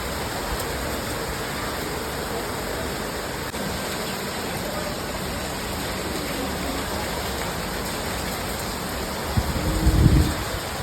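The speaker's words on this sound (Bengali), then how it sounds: "এখন ধুমসে বৃষ্টি নেমেছে।" Heavy rain pours down steadily in a dense, even roar heard from a veranda, with a brief louder thump of movement near the end.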